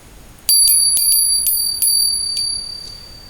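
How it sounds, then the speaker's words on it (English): A small bell rings out with bright, piercing metallic dings, a quick series of about eight strikes with lingering ringing tones, loud and close in an otherwise quiet room. "We have here a bell,"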